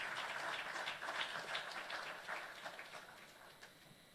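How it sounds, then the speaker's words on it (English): Faint, distant applause from a ceremony audience greets the Minister of Finance at an official launch event, steady clapping that gradually fades. "Round of applause, please."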